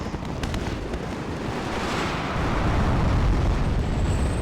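A tank is destroyed in the WARNO real-time strategy game with a loud, sustained explosive roar and crackle. It swells and stays dense for several seconds, with no talk over it.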